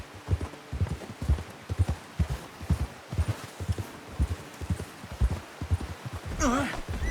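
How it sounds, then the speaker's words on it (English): Horse hooves clip-clop in a steady walking rhythm in the video game Red Dead Redemption 2, with a brief whinny near the end. "Get that horse in line, Arthur"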